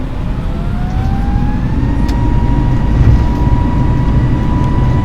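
Simulated Airbus A320neo engines at takeoff thrust during the takeoff roll in Microsoft Flight Simulator 2020, a loud continuous roar with a whine that rises and then holds steady, with no talk.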